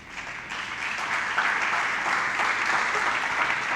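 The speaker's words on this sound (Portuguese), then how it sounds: "Pode aplaudir aí." A church congregation at Igreja Pra Sempre breaks into applause. The clapping is dense and sustained, building slightly and then holding a steady roar for nearly four seconds.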